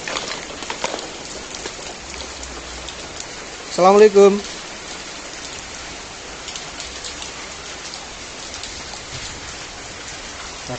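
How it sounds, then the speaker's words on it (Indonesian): Rain falls steadily on surfaces at a run-down former hospital building, a constant hiss throughout, while a man briefly calls out a greeting midway. "Hujan."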